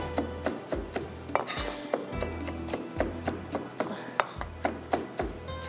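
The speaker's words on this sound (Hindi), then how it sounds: "इसको आपने बारीक थोड़ा सा और चॉप कर लीजिएगा" A knife finely chopping an ingredient on a board in a kitchen, a quick regular run of close, sharp taps, about two per second, with a faint voice in the background.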